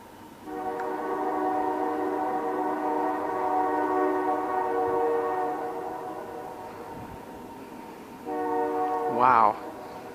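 An intermodal freight train at East Loon Lake sounds a long, loud horn blast that holds for several seconds. The rumble of the passing train follows, then a second, shorter horn call.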